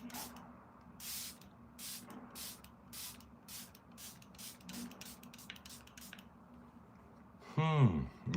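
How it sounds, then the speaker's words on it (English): Charlotte Tilbury setting spray is misted onto a face in a rapid series of short, sharp hisses from the pump nozzle, followed by a brief voice at the end. "one final spray to the face"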